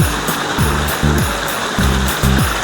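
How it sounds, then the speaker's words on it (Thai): A steady, loud rush of a waterfall fills the scene, with a low rhythmic mechanical thumping underneath. "ฟังเสียงน้ำตกนะครับ นอนฟังเสียงน้ำตกไปเรื่อย ๆ"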